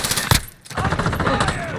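Heavy German machine gun firing in Call of Duty: Modern Warfare (2019), a dense rapid burst with a sharp opening crack, a brief dip, then sustained loud automatic fire.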